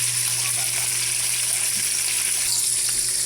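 Fish fries in a pan with a loud, dense, unbroken sizzle and crackle, close up and steady throughout, alongside a low constant hum.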